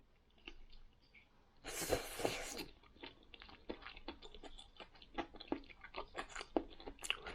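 Someone chews a crispy pan-fried jangtteok made with aged kimchi, a burst of loud crunching at first and then steady, quieter bites and mouth sounds, close up with no talking.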